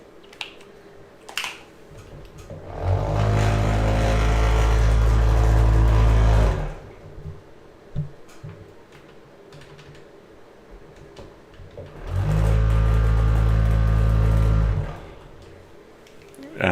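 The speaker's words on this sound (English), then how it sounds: "that noise you're hearing there is my paint mixer" A paint mixer runs in two long steady bursts of loud whirring drone, each a few seconds long, separated by quieter stretches with light clicks and handling noises.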